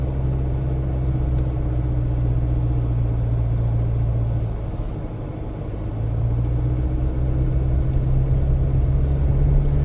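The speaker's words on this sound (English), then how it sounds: "But this truck is going through it like it's no problem at all." A 2023 Chevy Colorado Trail Boss pickup drives through soft beach sand on Padre Island, its engine a steady low rumble heard from inside the cab, easing briefly midway before pulling strongly again.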